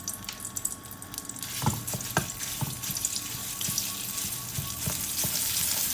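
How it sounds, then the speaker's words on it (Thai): Thai curry paste fries in hot oil in a pan for a chili sauce to pour over fried snakeskin gourami, a close, hissing sizzle that swells louder with a few light scraping knocks. "ผัดพริกแกงให้ส่งกลิ่นหอมนะครับ"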